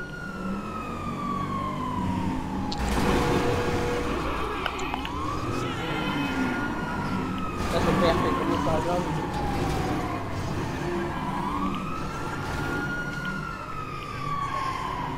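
Several police car sirens from the video game Grand Theft Auto V wail together in loud, sweeping rising-and-falling tones over engine rumble, continuous throughout, with talk mixed in.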